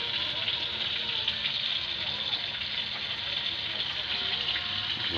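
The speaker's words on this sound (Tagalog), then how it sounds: "So hugasan natin." Tap water runs steadily while bitter gourd seeds are rinsed, a continuous hissing gush at moderate volume with no breaks.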